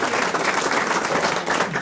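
A studio audience applauds a guest on a French radio-television comedy panel show, a dense, steady wash of clapping that stays loud and close for the whole short stretch, with no voices over it.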